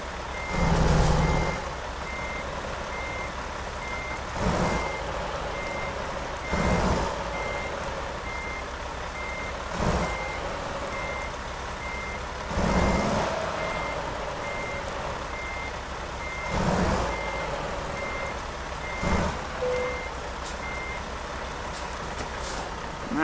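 A Mack truck in American Truck Simulator backs in at a construction site, its reversing alarm beeping steadily at a regular pace over idling engine rumble, punctuated by periodic air-brake hisses and bumps.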